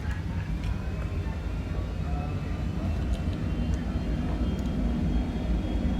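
Business jet spooling up for takeoff in a flight simulator, a steady loud engine roar with broadband rumble that holds constant throughout, with faint voices underneath.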